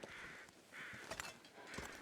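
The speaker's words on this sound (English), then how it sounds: "Wait, I hear more crows," Crows cawing in the wintry wilderness of The Long Dark, three hoarse, drawn-out caws spaced about a second apart, moderately distant and fairly faint against quiet wind.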